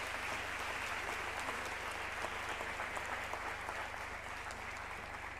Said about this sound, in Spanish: Ahora sí se puede aplaudir a todos.